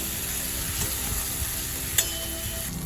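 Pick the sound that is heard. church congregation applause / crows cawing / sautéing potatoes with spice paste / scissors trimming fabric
sautéing potatoes with spice paste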